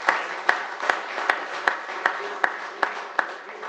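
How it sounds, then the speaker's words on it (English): Applause at a city council meeting: sharp claps land at a steady pace over a soft bed of crowd noise, moderately close. "give them a round of applause for that"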